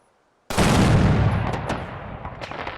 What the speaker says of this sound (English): Frag mines, grenades, cars, and mini-nukes all now explode with a sound that matches their destructive force.